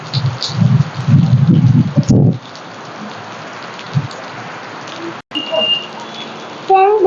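Heavy monsoon rain pouring onto a flooded area, a continuous hissing wash with a few dull bumps, while a voice talks over it near the start.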